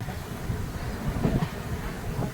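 The Karmabhoomi Express rolls on after leaving Malda, heard from inside the coach as a continuous low rumble with soft rhythmic clatter, moderately loud and steady throughout.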